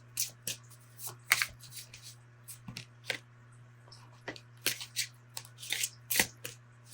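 Oracle cards being shuffled and drawn, a run of crisp riffling and snapping card sounds in irregular bursts, close and fairly quiet over a steady low hum, with no talking.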